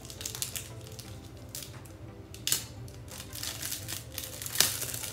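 A tightly wrapped sports card package being cut open, with scissor snips, plastic crinkling and tearing throughout, and a couple of sharper rips standing out near and fairly loud.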